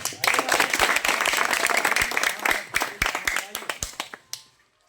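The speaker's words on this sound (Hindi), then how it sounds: "तो एक बार जोरदार ताली डॉक्टर साहब करें" Village crowd clapping for a visiting political candidate, a doctor from the Jan Suraaj party, with sharp close hand claps that thin out into scattered single claps and stop near the end.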